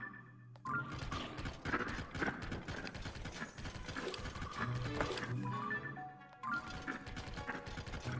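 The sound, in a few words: horse hooves clip-clopping in video game Zelda: Tears of the Kingdom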